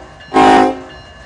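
A train locomotive in Run 8 Train Simulator sounds one short, loud horn blast of about half a second over a steady engine rumble.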